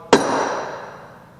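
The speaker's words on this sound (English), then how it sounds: "it's got what they call shot in there, and this is called a dead blow hammer" A shot-filled dead blow hammer lands a single sharp strike, the crisp impact followed by a ringing, slowly fading resonance, heard alone.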